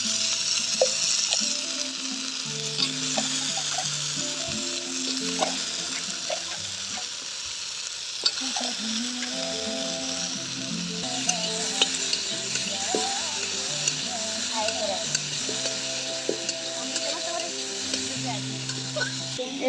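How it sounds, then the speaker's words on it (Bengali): Potatoes fry in mustard oil with turmeric in a pan, giving a continuous loud sizzle and crackle, with frequent stirring scrapes and a few faint background sounds. "না, আলু তো ভাজছি"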